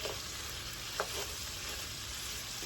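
Shrimp cooking in butter in a pan, a soft, steady sizzle with a few light utensil taps, quiet and close, without speech.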